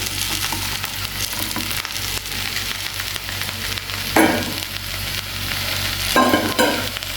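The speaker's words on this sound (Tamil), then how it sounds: "நம்ம மிக்ஸ் பண்ணி வச்சுருந்த இந்த குழம்பு ஆட் பண்ண வேண்டியதான்" Mixed buttermilk kuzhambu poured onto cooked pumpkin in a hot pan, a loud continuous sizzle with stirring scrapes and a couple of sharper bursts of bubbling.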